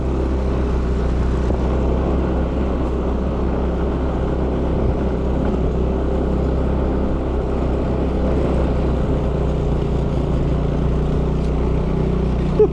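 A motorcycle engine drones steadily and loudly throughout, a continuous low rumble while climbing a rough road up to a view deck, with no clear talk over it.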